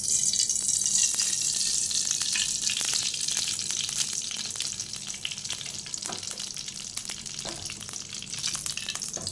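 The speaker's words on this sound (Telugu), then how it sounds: "చికెన్కి నూనె పోస్తున్నా." Chicken frying in oil in a pan for a Kerala-style chicken curry, a steady close hiss and sizzle with occasional stirring scrapes, no talk.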